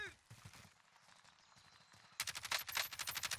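Rapid bursts of automatic gunfire from the video game Warzone crackle in quick rhythmic volleys, quiet and sparse at first, then sharply louder over the last second, with faint game sounds beneath.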